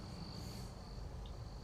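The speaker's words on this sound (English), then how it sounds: "You can literally hear the crickets chirping here." Crickets chirp at night outdoors during a severe storm chase, a thin, steady, continuous high trill held faintly over a low, constant background rumble, with no voices.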